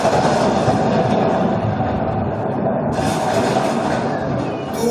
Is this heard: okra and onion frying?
no